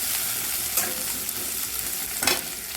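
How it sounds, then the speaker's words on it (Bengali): Chopped onion and green chilli fry in hot oil with a dense, continuous sizzle, punctuated by a couple of brief stirring scrapes, close and fairly loud with no talking. "তেল গরম করে নিয়ে ভেতরে দিয়ে দিয়েছি পেঁয়াজ কুচি আর কাঁচা লঙ্কা কুচি"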